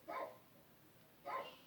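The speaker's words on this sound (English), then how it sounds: "Excuse my dog. Chico just be barking at anybody" A pet dog named Chico gives two short, muffled barks about a second apart, somewhat distant in an indoor room.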